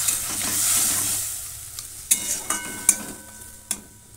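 A fish head stirred in a sizzling frying pan for kanta chorchori, a fish-bone curry. A loud fry hiss fades into a run of sharp spoon-on-pan knocks at uneven intervals, with no voices.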